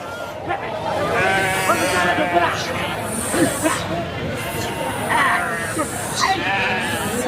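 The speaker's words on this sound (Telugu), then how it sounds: "గుంపులుగా వస్తున్నాయి మేకలు గొర్రెలు" Goats and sheep bleat repeatedly as flocks arrive at the Tallapalem livestock market, amid a noisy crowd with people talking throughout and a steady murmur of movement.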